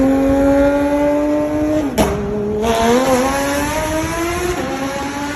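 A Porsche 991 GT3 RS engine howls loudly at high revs, its pitch climbing and dipping through gear changes with a brief tire squeal partway through.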